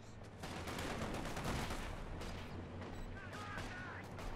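Sustained gunfire and explosions from a World War II battle in the strategy game Company of Heroes, dense and loud throughout, with a shelled base.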